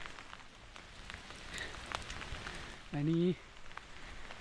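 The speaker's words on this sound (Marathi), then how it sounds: "पाऊस कंटिन्यू चालूच आहे, कमीच नाही झाला आहे." Heavy, steady rain falls continuously in the Konkan countryside around rice fields at planting time. It makes a dense, even patter throughout. A brief voice and a short tonal call cut in near the end.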